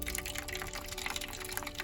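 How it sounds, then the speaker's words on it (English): Hot water pours into a small cup in a steady, faint splashing trickle for a couple of seconds, with no voices over it. "So I'm going to pour the hot water over a little extra cup."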